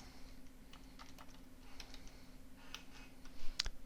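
Quiet, close typing on a computer keyboard, a loose run of soft key clicks ending in a few sharper taps.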